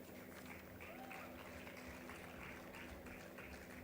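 Steady, dense applause from a convocation audience, continuous and fairly distant, filling the space evenly with no clear pauses.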